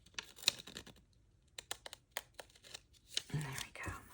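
Paper being trimmed from the edge of a small journal page, heard as a run of crisp, close snips and crinkles in short bursts, with a louder stretch of tearing and rustling near the end.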